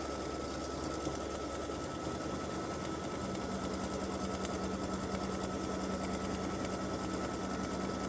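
An embroidery sewing machine tacks down the side seams of a fabric mug rug, its needle chattering in a steady rapid rhythm close by, loud and continuous with no talking.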